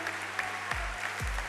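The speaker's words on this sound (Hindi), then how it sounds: "एक बार और इनके लिए जोरदार तालियां हो जाए।" A convention audience claps steadily through a short, busy burst of applause, with a couple of low thumps underneath.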